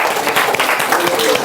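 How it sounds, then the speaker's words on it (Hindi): Students in a classroom clap briefly for a classmate's answer, a dense burst of hand claps with a voice speaking over it. "तालियां बजा दीजिए इनके लिए।"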